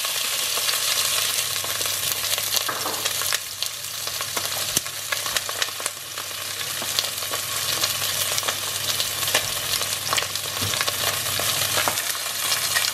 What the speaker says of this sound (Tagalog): Yung chicken natin, tumatalsik siya ng bonggang-bongga.